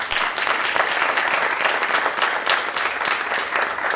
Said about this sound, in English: let's keep the applause going for our finalists for the inaugural European Riverprize